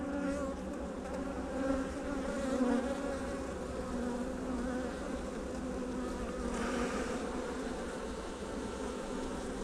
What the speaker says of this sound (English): So although these bees are angry